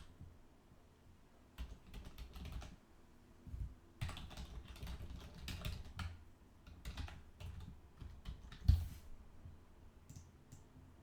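Fingers type on a computer keyboard in bursts of quick, close clicks and key taps, pausing in between, with one sharper thump near the end and no talking.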